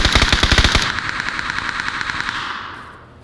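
A burst of rapid automatic gunfire from a P90 in PUBG on the Vikendi snow map rings out loud and close for under a second. Several quieter, evenly spaced shots follow, then the sound fades out.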